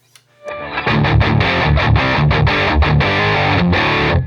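A distorted electric guitar through a REVV amp plays a fast single-string lead line of quick notes, loud and continuous with a gritty amplified tone.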